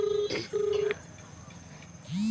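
A telephone call is being dialed, with two steady electronic ringback or dial tones in succession, then a quieter stretch and a rising tone at the end, heard close and clear with no speech.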